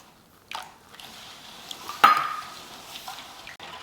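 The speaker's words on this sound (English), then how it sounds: "Just gonna stir it with my hand" Kosher salt and curing salt stirred by hand in a container of liquid for a bacon cure: a few soft swishes and scrapes, one sharper knock midway, close and moderately loud, with no talking.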